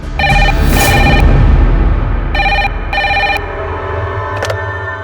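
A telephone bell rings in several loud bursts with short gaps, close by over a rumbling background.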